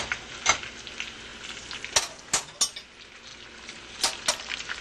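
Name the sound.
imitation lobster sauteing in a pan, stirred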